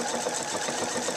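A Pfaff Expression 4.0 sewing machine stitches a quilt with a steady, continuous mechanical whir, close and even from start to finish with no pauses.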